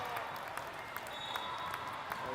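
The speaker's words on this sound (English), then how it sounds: "And we got some cheering over there." Crowd noise at a cheerleading competition, with broadband cheering and scattered claps swelling in short bursts across a steady wash of sound.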